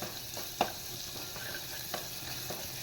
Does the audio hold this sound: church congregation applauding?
no